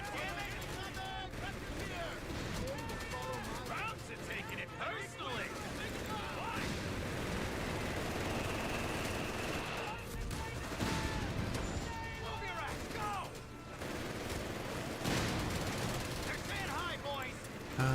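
Scattered gunfire and explosive booms in a Total War: Warhammer III battle, irregular cracks and blasts layered over a busy mix of game effects and music at moderate level.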